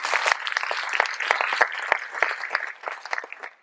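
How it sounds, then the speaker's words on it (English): A short burst of audience applause for a mathematics education panel, close, dense clapping with a few sharp individual claps standing out, tapering off after a few seconds. "We'll give them a big round of applause."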